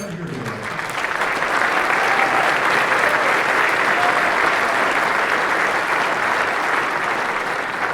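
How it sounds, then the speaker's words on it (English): Sustained applause from a large audience at a veterans dinner for an Army lieutenant general, steady and full after a brief voice at the start, holding loud throughout. "Let's have a round of applause for Lieutenant General Kevin Campbell."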